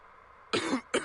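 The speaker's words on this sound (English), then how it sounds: "Oh dear, a coughing fit." Two harsh coughs burst out in quick succession from a game character during a coughing fit in the mystery game Agatha Christie: The ABC Murders, the first longer and rougher, the second short, close and loud after a brief pause.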